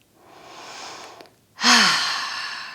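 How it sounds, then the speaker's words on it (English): A deep yoga breath: a long, soft inhale followed after a brief pause by a louder, breathy exhale, close to the microphone. "Deep breath in."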